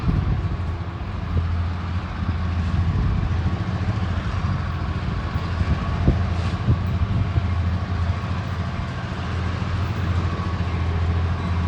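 A switcher locomotive working hard as it climbs a grade in the rain, a loud continuous low diesel throb with rail rumble and a few sharp clanks, sustained throughout with no talking.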